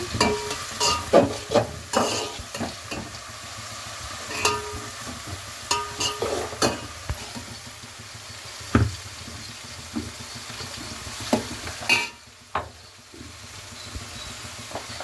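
Mixed vegetables roast in a pan for pulao while a spoon stirs them, making irregular scraping knocks over a soft, steady sizzle, close and without talk.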